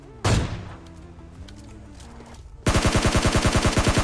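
Gunfire in PUBG Lite: one loud shot near the start, then a spell of quieter ambience with faint tonal sounds, then a rapid, evenly spaced automatic burst from a G3 rifle that runs loud to the end.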